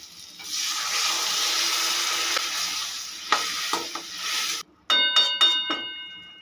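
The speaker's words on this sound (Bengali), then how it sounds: "এবারে দিয়ে দেবো এক কাপ পরিমাণে জল" A cup of water goes into a pan of potatoes cooked down with spices for Bengali aloo kachuri filling, pouring and sizzling loudly for about four seconds before a few light clinks and taps of utensils.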